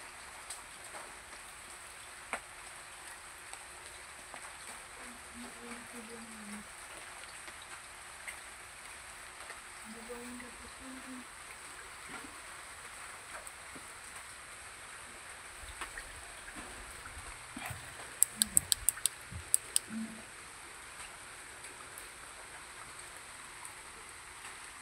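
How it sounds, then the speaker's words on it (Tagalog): Steady light rain falling on a roof at night, a constant soft hiss throughout, with a few faint knocks and a short burst of sharper ticking near the end. "Ulan."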